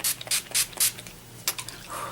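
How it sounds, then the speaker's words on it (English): Several short hissing bursts of NYX Dewy Finish setting spray misted onto a face at close range, coming in quick uneven pumps with brief pauses between them. "I'm going to take the NYX Dewy Finish setting spray. And I'm going to spray it all over."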